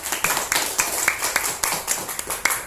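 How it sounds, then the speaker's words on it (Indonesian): A classroom group clapping for discussion groups, a modest patter of hand claps at an uneven, loosely shared rhythm. "kita beri aplaus untuk semua kelompok"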